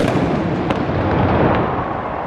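A cannon fires a gun salute at a presidential inauguration in Rwanda, a loud, booming blast that rumbles and echoes outdoors and fills the whole short clip.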